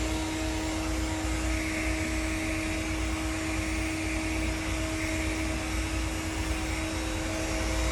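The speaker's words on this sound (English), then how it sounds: "So you never want to put the blow dryer on the hair and do that." A hair blow dryer turned up to high runs close by as a steady, loud, continuous whooshing roar with a constant motor whine and no speech.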